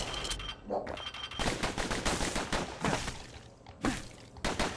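Rapid bursts of gunfire in the video game Bastion, repeated loud shots in dense volleys with brief pauses between them, up front in the game mix.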